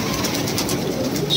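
Madrasi pigeons kept for sale coo in soft, repeated throaty calls. The birds sound close over a busy, steady background.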